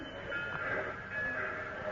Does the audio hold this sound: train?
yes